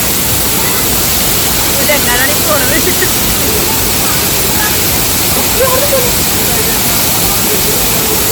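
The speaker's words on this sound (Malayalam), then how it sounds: "ആ വെള്ളത്തിൻ്റെ ഇരച്ചിൽ നമ്മുടെ നെറ്റിക്ക് അടിക്കുന്ന പോലെയുണ്ട്" Constant loud rushing roar of a waterfall in Munnar, even and unbroken, with faint voices murmuring beneath the noise.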